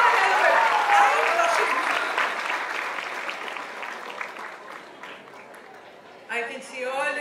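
Applause and cheering at a foundation launch event greet an actress, a dense, sustained wash of clapping from a sizeable audience that slowly fades, before a voice begins speaking near the end.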